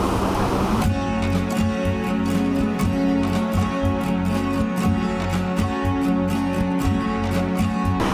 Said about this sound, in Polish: więc w tle mam włączony wiatrak